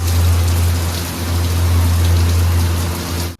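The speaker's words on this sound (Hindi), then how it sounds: "बारिश हो गई स्टार्ट बहुत तेज" Heavy rain pours down at night around eleven o'clock, a loud, unbroken hiss of drops drumming on surfaces, steady throughout with a low hum underneath and no talking.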